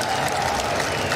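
A short burst of dense audience clapping at a live gaming show, loud and continuous throughout.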